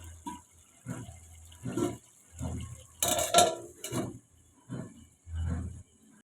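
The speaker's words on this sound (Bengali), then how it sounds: "ঢাকনাটা খুলছি।" A metal lid lifted off a cooking pot of bottle gourd and fish-head curry, a sharp clattering clank in the middle among quieter kitchen knocks and scrapes.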